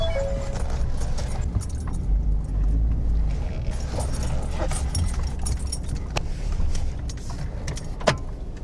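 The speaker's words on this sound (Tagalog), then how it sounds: "Imumove ko yung truck dito sa kabilang side" A truck being moved at a forest campsite, with a low engine rumble and tire crunching, plus scattered clicks and knocks, fairly close and steady, with no talking.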